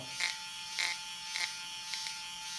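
A LifeStyle RL880 window-cleaning robot's motor buzzes steadily with a high whine, broken by four or five brief crackling bursts of sparking at regular intervals.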